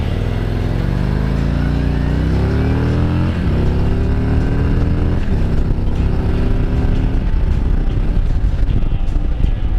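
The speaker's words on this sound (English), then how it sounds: "it spools up just like a big V-twin should" A Harley-Davidson FLHT Electra Glide Standard V-twin engine with stock exhaust revs and accelerates steadily, its deep throbbing note climbing through gears, loud and continuous.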